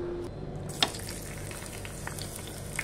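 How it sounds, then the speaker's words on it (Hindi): Green garlic and green chili hit hot ghee in a pan, starting a soft steady sizzle with a sharp crackle as they go in, then a continuous quiet frying hiss with occasional pops. "यहाँ मेरा घी गर्म हो चुका है, इसे मैं डालूंगी हरी लहसुन और हरी मिर्च।"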